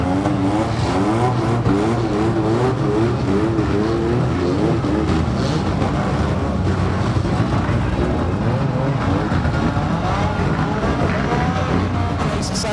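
Unlimited banger racing cars at Mildenhall roar back up to speed together at a restart, a dense, continuous engine din revving loudly throughout with a commentator talking over it.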